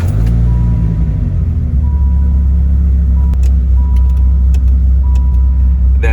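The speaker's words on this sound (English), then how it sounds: "just hearing this V10 engine, oh my God." A Dodge Viper's V10 engine with a 6-speed manual idles close by in a loud, deep, steady rumble that holds without breaks.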